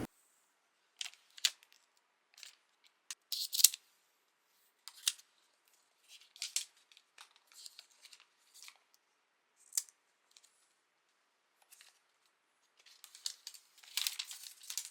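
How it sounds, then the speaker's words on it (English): A new Apple Mac Mini being unwrapped from its packaging: scattered crisp crinkles, tears and rustles of film and paper come in short bursts against silence, denser near the end. "there is still one more thing that is left to do, and that is unwrapping this Mac Mini"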